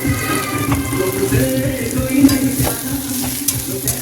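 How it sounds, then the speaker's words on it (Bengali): Marinated chicken pieces with spices and sour yogurt frying in a pan until reddish, a steady close sizzle with scraping stir strokes throughout and faint water-like hiss, no talking. "লাল লাল করে ভেজে নেবো"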